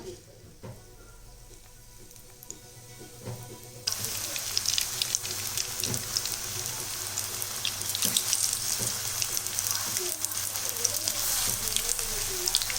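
Capsicum bajji dipped in batter and dropped into hot oil set off a sudden loud, dense sizzle partway through, the crackling fry continuing close and steady after a quieter stretch.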